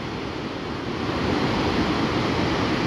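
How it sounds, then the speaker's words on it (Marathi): Water rushes over a small dam built across a river, forming a little waterfall, in a steady, even roar, with no breaks or other sounds. "तो पाणी अडवल्यामुळे तयार झालेला छोटासा धबधबा आहे"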